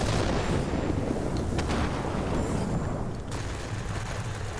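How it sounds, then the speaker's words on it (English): An IL-8 aircraft dropping a bomb in the World of Warplanes game, heard as a loud, dense roar of engine noise and dull blasts that continues steadily throughout without talk. "We're just gonna drop a bomb there."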